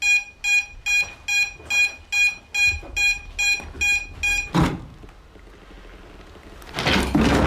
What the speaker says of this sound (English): Flip your beeper switch.